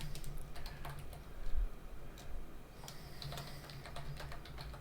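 Keystrokes on a computer keyboard entering a Linux command, a quiet run of irregular taps and clicks across the whole stretch with faint room noise and no talk.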